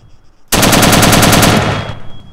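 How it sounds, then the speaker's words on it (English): Full-auto fire from an RH M4 rifle in Arma 3, one loud continuous burst of rapid evenly spaced shots lasting about a second, close and dominant, then a brief fading tail. "if you're curious, it does go full auto"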